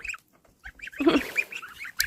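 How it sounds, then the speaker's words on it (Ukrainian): Small goslings on a farmyard path give a quick run of soft, high peeping calls, close and fairly loud, with a brief busier cluster in the middle and no talk. "такі маленькі гусики маленькі гусики"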